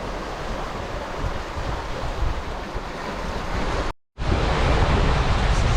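Choppy open-ocean waves and steady wind noise roar continuously around a small sailboat on a solo passage, loud and close, with a brief dropout near the end and no voices.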